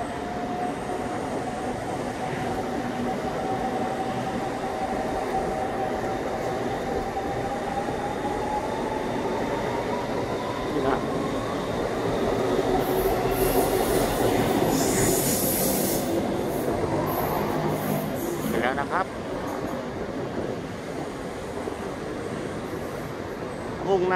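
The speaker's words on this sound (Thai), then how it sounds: "มีรถไฟฟ้ามาแล้วนะ" A Bangkok BTS Skytrain pulls into an elevated station on the line toward Kheha: a loud, steady electric motor whine rising in pitch, rolling rail noise and a burst of high wheel squeal, all close.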